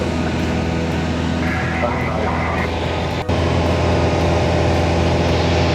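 Beechcraft Sundowner light aircraft flying in formation, its piston engine a loud, steady, close drone filling the cabin, with a brief dropout partway through and faint voices underneath.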